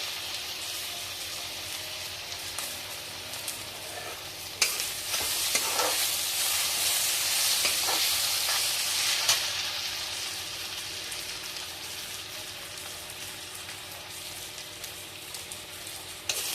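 Ginger, garlic and onions fry in a pan of oil for a duck dish, giving a steady, close sizzle with brief bursts of crackle and stirring scrapes partway through, and no talking.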